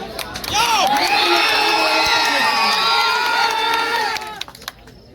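An audience at a live Bhojpuri stage show erupts in loud, sustained cheering, whoops and shouts for about four seconds before the noise cuts off.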